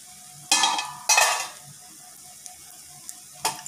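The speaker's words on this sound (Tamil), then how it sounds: "இப்போ கிளறி விடலாம்" Semiya vegetable biryani stirred in a pot, with two close scraping clatters of a spoon against the metal followed by a few faint taps and a final short scrape.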